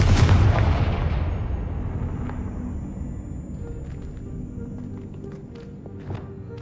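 A Confringo blasting spell explodes in Hogwarts Legacy: one loud, close boom at the start, its rumble decaying slowly over several seconds, followed by faint scattered clicks and light footstep-like taps.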